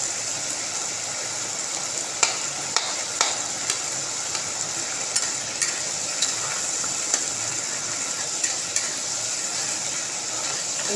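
Tomato masala for katla kalia being sautéed in a pan, a constant soft sizzle broken by regular sharp scrapes and taps of a spatula stirring.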